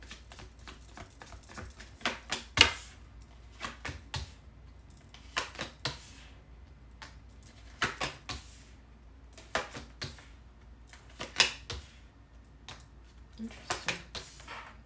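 Tarot cards being shuffled by hand, heard as soft irregular bursts of riffling and slapping card sounds, quiet and close, with short pauses between shuffles.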